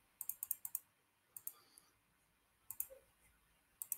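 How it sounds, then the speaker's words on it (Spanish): Computer mouse clicks sound in quick clusters of three or four, sharp and close but quiet, separated by short pauses over a faint room hush. "basta con hacer clic sobre los ítems"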